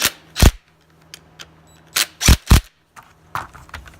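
An air impact gun tightens a nut on a Ford Mustang's stock shifter, giving several short, loud rattling bursts separated by quiet pauses, with a close pair of bursts in the middle.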